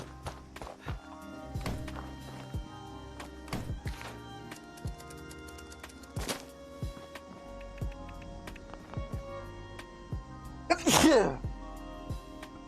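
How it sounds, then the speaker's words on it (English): A person sneezes once, loud and sharp near the end, while playing Fallout 76 amid scattered game sounds, clicks and hoof-like clatter. "I sneezed."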